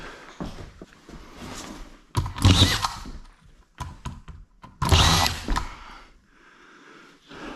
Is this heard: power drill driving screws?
yes